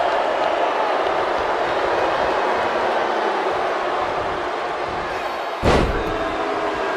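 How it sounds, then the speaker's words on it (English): In the WWE 2K19 wrestling video game, a wrestler is suplexed back into the ring from the apron. One loud, sharp slam on the mat cuts through steady arena crowd noise near the end. "Suplexing him back inside from the apron."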